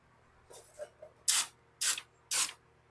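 Spray paint from an aerosol can on a 1971 VW Super Beetle: a few faint sputters, then three loud, close hissing bursts, each about half a second long with short pauses between them.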